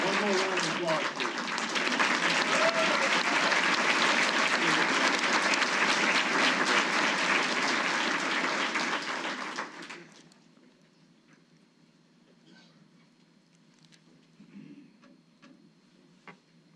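Applause from an awards ceremony audience, a dense roar of many clapping hands that holds steady for about ten seconds before dying away to a quiet room with faint scattered ticks.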